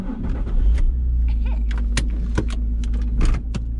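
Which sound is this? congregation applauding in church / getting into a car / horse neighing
getting into a car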